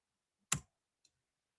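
A sharp computer mouse click sounds once, close and crisp, followed by a much fainter second click in an otherwise silent room.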